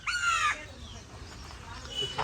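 Village chickens squawk and cluck loudly in a harsh burst at the start, then fade to quieter clucks, and a final short squawk comes at the end, with someone talking in the background.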